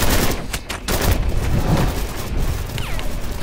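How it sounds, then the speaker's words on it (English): Video game gunfire aimed at a vampire monster, a steady barrage of loud, overlapping shots filling the whole moment, with no one speaking. "Shoot the monster!"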